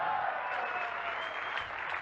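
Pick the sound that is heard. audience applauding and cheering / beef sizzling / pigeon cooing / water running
audience applauding and cheering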